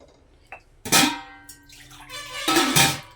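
Water is poured into a pressure cooker in two splashing bursts, with a faint clink before and a brief pause between pours.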